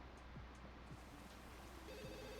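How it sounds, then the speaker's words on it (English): A telephone rings inside The Sims 2, a steady electronic ring that repeats over a constant hum of game ambience, moderately loud and with no talk over it. "the phone has to ring and Lucy's going to work"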